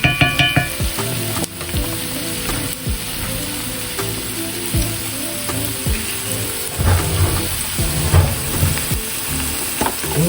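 Onions frying and sizzling in a pot, with a steady close crackle under repeated scraping and clanking strokes of a stirring utensil against the pot.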